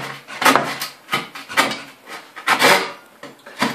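A Victorinox folding saw cuts a wooden board in rough, close strokes, each rasping pass loud and separated by brief pauses, in an irregular back-and-forth rhythm with no voices.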